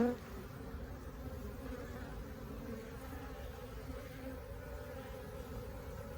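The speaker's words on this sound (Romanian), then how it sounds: "Deci sunt full de albine." Honeybees buzzing around flowering rosemary near their hives on a December day, a continuous, fairly soft hum of many insects with no talking.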